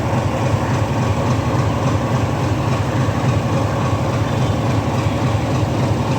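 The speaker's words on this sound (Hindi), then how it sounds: "अने आ से विसावदर रेलवे स्टेशन।" Train at Visavadar railway station in Gujarat, a loud continuous low rumble of a heavy engine idling or rolling slowly, steady and close throughout with no voices.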